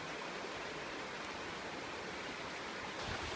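Floodwater rushes past a solo hammock camp in the wild, a soft, steady hiss of running water with no breaks and no voices.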